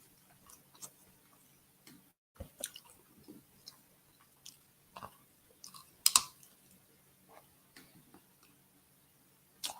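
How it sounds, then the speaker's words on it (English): Someone eats crunchy food close to the mic, producing irregular crisp bites and crunches spread over several seconds, with one louder snap partway through, against a quiet background and no talking. "I'm over here crunching in y'all ear and shit."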